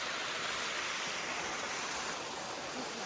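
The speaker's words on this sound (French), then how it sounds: "En fait, c'est le début de la cascade." Rushing water from the top of a small waterfall in the countryside, a steady broadband roar that holds even and fairly close throughout with no talking.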